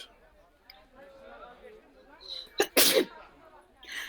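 A single sharp sneeze bursts out after a stretch of quiet talking, with a short pause and then speech resuming.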